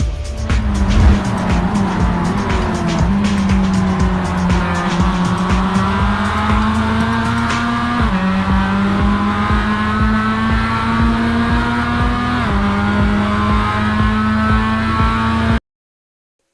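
Dirt track pro late model race cars at Speed Ranch in Lincoln roar loud and close in a continuous pack, engine pitch climbing and dipping through the laps, with tire noise and no talking.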